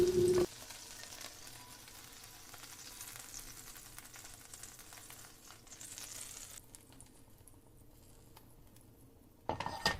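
Seafood, lobster and squid, fries in a pan on an outdoor trail-ride cookout by a river, a continuous low sizzle with faint scraping and stirring that fades toward the end.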